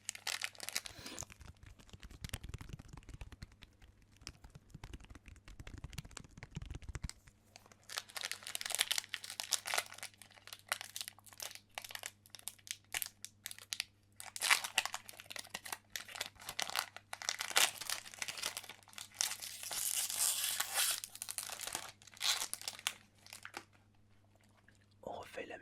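A Spanish-language Pokémon Black and White booster pack is opened, its foil wrapper giving off close, crisp crinkling and tearing in irregular bursts, with a brief low rumbling passage at the start and soft intermittent mouth-like sounds throughout.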